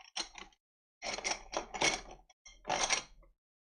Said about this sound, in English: They do snap together fairly well.